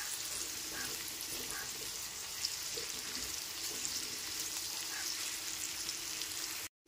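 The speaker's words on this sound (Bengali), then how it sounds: "সমস্ত সবজি এখানে খুব ভালো মতো ভাজা হয়ে গেছে।" Vegetables for veg chowmein fry in a hot pan with a steady, close sizzle that holds unbroken for several seconds, with no talking.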